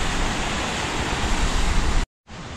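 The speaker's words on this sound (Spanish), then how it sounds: "Tenemos a la izquierda el río." A river runs beside a hiking trail near the Huanano waterfall at San Jerónimo de Surco, Peru, giving a loud, steady broadband rush of flowing water that cuts out briefly near the end before resuming.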